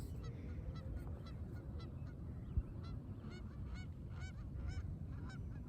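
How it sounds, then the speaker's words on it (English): Geese honk repeatedly at moderate distance outdoors, a series of nasal calls rising above a steady low rumble of background noise. "Lots of birds over here."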